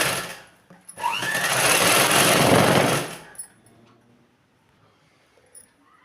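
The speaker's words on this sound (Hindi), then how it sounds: "अब हम ये दूसरी तरफ सिलाई चला देंगे पूरी तरफ में" A sewing machine runs a seam on a lined suit, a loud continuous whirring stitch for about two seconds close by, then stops, leaving faint clicks and quiet.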